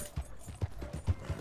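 Horse hooves clip-clop at a steady riding gait in the Red Dead Redemption 2 video game, several distinct thuds in an even rhythm, fairly close, with no voices.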